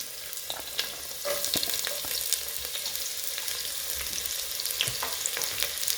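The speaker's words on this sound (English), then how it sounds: "Now straight away my pan has been on fire. I'll put the onions and garlic together" Onions and garlic fry together in a hot pan of oil, a dense continuous sizzle with scattered pops and crackles up close, steady throughout and with no talking.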